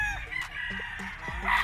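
A white-legged bulik gamefowl rooster at a gamefarm lets out a crow that sits over steady farm background noise, with other birds faintly present and no one speaking.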